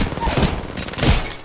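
Short burst of video game gunfire, a few rapid close shots in quick succession, with faint background voices.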